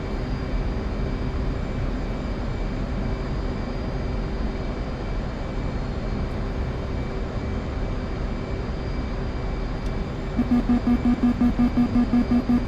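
An F/A-18 Hornet's jet engines roar at a steady, dense whine after an arrested carrier landing in DCS World, constant and loud throughout, with a rapid pulsing warning tone joining near the end.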